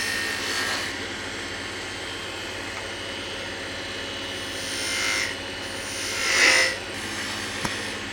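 Lathe tools make a couple of shallow parting cuts on a spinning wooden snowman box during woodturning, producing a steady, fairly faint scraping rasp that swells briefly twice near the end, with no talking.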